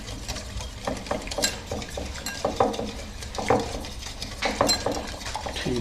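A spoon mixes lemon juice into a chicken marinade for chicken malai boti, giving a run of soft, irregular clicks and scrapes against the bowl at close range, with no talking.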